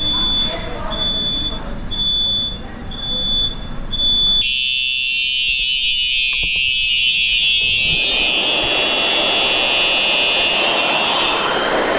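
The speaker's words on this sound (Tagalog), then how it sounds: "pinapausukan po yung ating device para mag-activate yung alarm" Smoke-activated fire alarm during maintenance: intermittent high beeps at first, then a loud continuous piercing electronic tone that holds steady for several seconds, with voices talking underneath.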